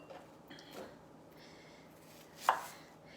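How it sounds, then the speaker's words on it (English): A knife cuts an apple into sixths, with faint soft taps and one sharper chop against the board in a quiet kitchen. "What I'm going to do is I'm actually going to cut it into sixths."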